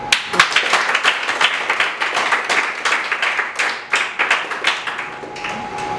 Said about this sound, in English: And I want to give a very big clap to those people who fasted.